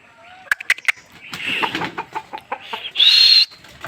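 Egyptian Fayoumi rooster and hens on a farm give short clucks and calls, ending in a louder drawn-out crow-like cry, close by with no talk.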